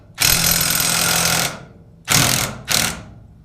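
Bauer half-inch impact wrench from Harbor Freight, fitted with a Pittsburgh impact socket and adapter, loosening a tight nut with three loud close hammering bursts: a long rattling run, then two short ones.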